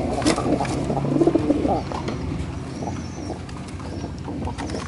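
Pigeons coo softly in a loft during morning feeding, with low rolling calls close by, faint chirps and rustling, and a soft background hum.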